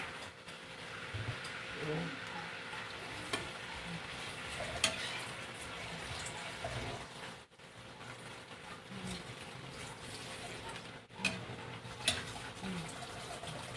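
Ilocano igado, a pork dish, is stirred in a cooking pan as oil and sauce sizzle steadily, with a utensil scraping and clinking now and then at close range, and someone speaks faintly over the cooking.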